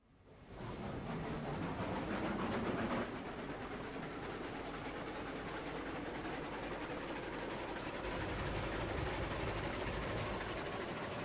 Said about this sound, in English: Finish putting this train away here